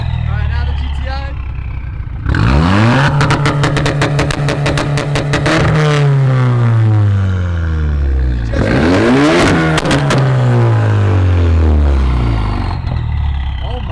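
A Stage 2 bagged Volkswagen MK7 GTI makes two hard accelerations with loud revving and rising engine pitch, each ending in a falling, crackling roar, heard fairly close.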